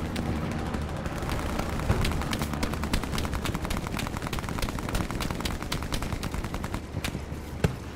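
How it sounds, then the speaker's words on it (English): Grease gun firing in a first-person video game, a fast steady automatic rattle of sharp shots running through the whole stretch, loud and close with brief louder bursts, with no talk. "Man, the grease gun's fun."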